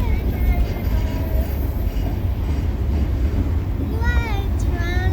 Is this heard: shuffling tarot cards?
no